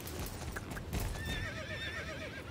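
A horse in the video game Autumn Riders, a wavering neigh rising over steady clip-clopping hooves, with a faint background music bed.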